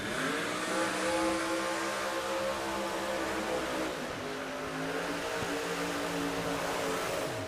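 A pair of Pro Mod drag race cars launch side by side at the Bradenton strip, their loud engine tones sweeping upward together over a constant, heavy roar lasting several seconds.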